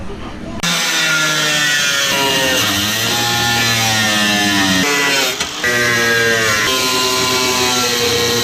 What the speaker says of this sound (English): now I'm gonna go ahead and cut my exhaust exit.